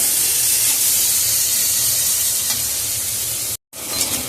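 Steady, loud sizzling and hissing of jackfruit seeds frying in hot oil, continuous with a brief cut near the end.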